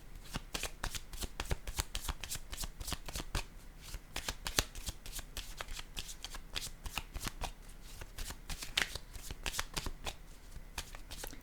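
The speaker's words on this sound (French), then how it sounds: "Je vais juste déposer une autre carte en cette zone." Tarot cards being handled, shuffled and laid down, a rapid run of close, crisp flicks and slaps repeating steadily throughout.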